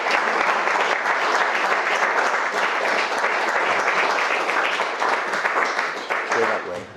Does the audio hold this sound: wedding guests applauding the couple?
yes